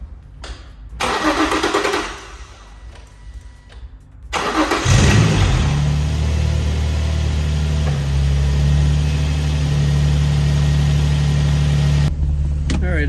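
Nissan 350Z engine cranking and firing up after an injector swap, catching around the middle and settling into a steady, loud idle that holds to the end, preceded by quieter shop noise.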